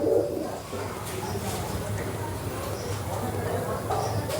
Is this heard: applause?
no